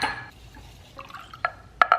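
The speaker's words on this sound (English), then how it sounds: "A little bit of water in this jar." A little water runs into a jar holding honey, with a soft liquid trickle followed by a couple of bright glassy clinks and drips close by.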